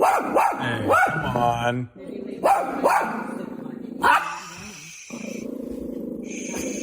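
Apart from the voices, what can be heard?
dog barking and growling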